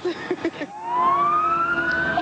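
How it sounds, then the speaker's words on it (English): A fire engine siren rises and wails as it passes along a road during winter storm conditions, loud and sustained after a few brief knocks. "we're competing with some fire engines that are going by"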